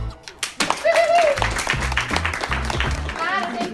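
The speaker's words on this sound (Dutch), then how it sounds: "Maar eens even een applaus." An audience breaks into scattered clapping for Tara that quickly builds into lively applause, while a voice and other people talk over it.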